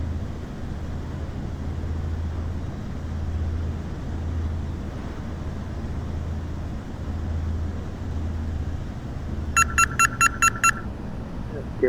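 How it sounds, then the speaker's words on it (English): Gear warning horn of an Alabeo DA42 twin-engine light aircraft in Prepar3D V5, a rapid series of about six sharp electronic beeps sounding late over the steady drone of the engines. "Gear warning horn."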